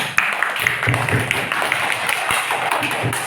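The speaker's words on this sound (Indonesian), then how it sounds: "tepuk tangan ya" Schoolchildren in an Indonesian classroom clap together, a dense patter of many small hands running steadily throughout with scattered sharper taps, close and fairly loud.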